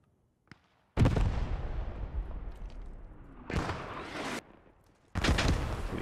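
Mortar fire in the Post Scriptum battlefield, three heavy booming blasts with long rumbling tails, each separated by a short quiet gap.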